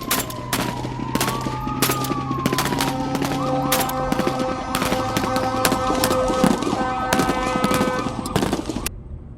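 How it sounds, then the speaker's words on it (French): Rapid bursts of gunfire crackle repeatedly over a long steady wail of sirens, loud and dense throughout with sharp cracks packed close together. "j'entends des coups de feu et des cris dans tous les sens"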